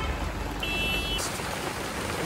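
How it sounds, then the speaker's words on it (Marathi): Steady, dense monsoon rain hiss fills the scene at Malshej, a constant broadband wash of falling drops with no voices. "पाऊस आलाय पण थांबलो इथं"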